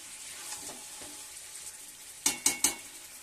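Papaya, potato and chicken curry stirred in a pot over low heat: a faint, steady simmer with soft scraping, then three sharp, close taps on the pot near the end.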